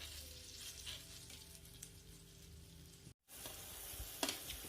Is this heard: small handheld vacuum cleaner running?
no